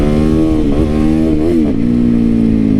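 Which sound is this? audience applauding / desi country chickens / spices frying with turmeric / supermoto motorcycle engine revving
supermoto motorcycle engine revving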